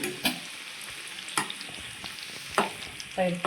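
Spinach pakoda fry in oil while being flipped with a small spoon, a low sizzle punctuated by a few sharp clinks and splashes spaced about a second apart.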